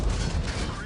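A Hetzer tank destroyer's main gun fires in a tank combat video game, a heavy booming blast with a rumbling low-end tail lasting under a second, loud and close, with no talk over it.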